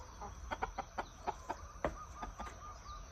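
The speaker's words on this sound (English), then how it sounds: "We also have chickens." Chickens on a homestead in Hawaii cluck in a run of short, close calls spread across a few seconds, heard alone over a soft outdoor background.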